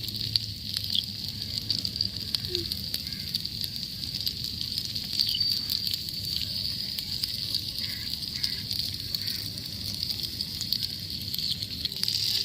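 Paneer tikka fries in a little oil on a miniature tawa, giving a soft, steady sizzle and hiss with faint crackles throughout, with no voices.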